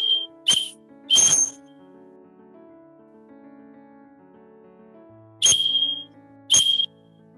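Morse code signals sound on a whistle for Pramuka scout training: four sharp, shrill blasts, two close together near the start and two more after a long gap, over a faint tonal background.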